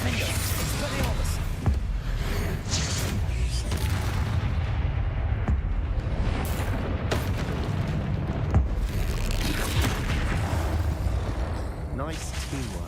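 Confringo and Bombarda spell blasts in the video game Hogwarts Legacy, a dense run of booming, rumbling explosions that carry on with hardly a break through a loud battle, with talk mixed in.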